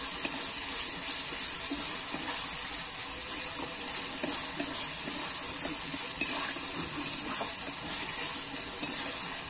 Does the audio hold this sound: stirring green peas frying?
yes